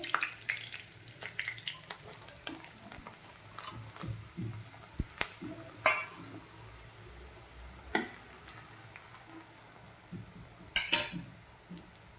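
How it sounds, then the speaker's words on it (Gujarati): Garlic dropping into a frying pan while Gujarati chora is cooked, giving a steady soft sizzle broken by scattered clicks, light metallic taps and small splashy pops throughout. "તેના પછી આપણે લસણ નાખી દેવાનું છે"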